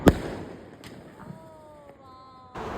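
A helicopter firecracker goes off during Diwali: a sharp crack, then a thin, wavering whistle as it spins, ending in another noisy burst.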